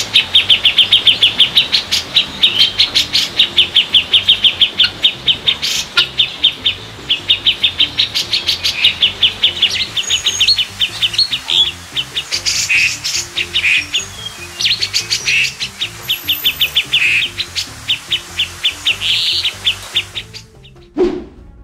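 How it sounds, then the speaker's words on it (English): Brown-cheeked bulbuls call back and forth in a forest, a loud, continuous stream of bright chirps and tweets layered over one another, with a few sharp knocking sounds near the end. "They often issue tweets, replying to each other in the morning and evening, making the forest noisy with their voices."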